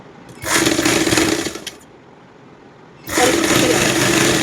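A sewing machine stitches a child's umbrella-cut top in two close, loud bursts of rapid whirring chatter, separated by a brief quieter pause.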